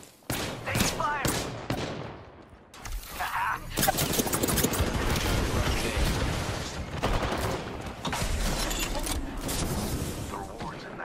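Gunfire in the video game Apex Legends, an arena match: sharp bursts of shots and thumps come in rapid clusters, loud and close, with a voice talking over parts of the action.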